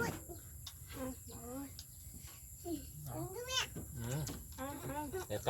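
A cat meows repeatedly in rising, whiny calls, close by, while people talk over and between the meows.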